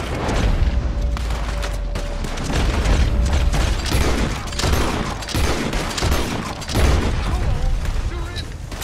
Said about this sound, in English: I shot his lieutenant.